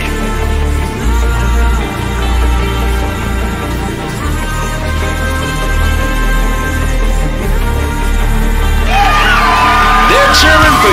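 Crowd whoops and yells in the rhythm game Stepmania, rising in a burst near the end over loud, steady electronic music.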